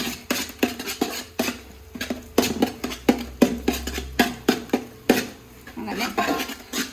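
Egg fried rice tossed and mixed in a pan with a utensil, a steady run of clattering scrapes and knocks close by, with a voice talking over part of it.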